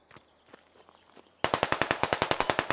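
Automatic gunfire in the Squad video game: a rapid burst of about a dozen loud, evenly spaced shots after a stretch of faint footsteps and quiet movement.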